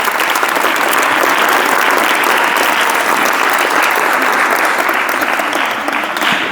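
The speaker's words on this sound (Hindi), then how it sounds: "तालियों के द्वारा बीच बीच में मुझे सूचित करते रहिएगा" Dense, sustained applause from a large audience at a spiritual lecture, steady and loud throughout with no break or voices rising above it.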